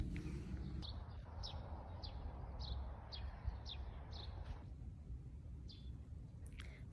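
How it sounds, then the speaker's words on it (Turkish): Repeated short bird chirps, several in a row at a steady pace, over a constant low outdoor rumble; sparrow-like tweets, moderately close. "Serçeler."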